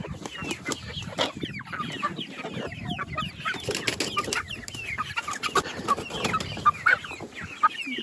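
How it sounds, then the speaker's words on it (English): Chickens cluck and fuss around a backyard coop as one bird runs loose, a steady busy flurry of close clucking with a few sharper calls, no talking. "Uh-oh, we got a runaway chicken."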